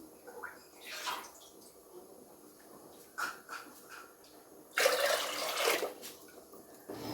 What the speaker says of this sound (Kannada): ಈಗ 4 ಕಪ್ಪಷ್ಟು ನೀರನ್ನು ತಗೊಳ್ತೀನಿ.